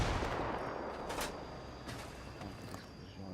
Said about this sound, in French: Explosion là, je sais pas ce que c'était.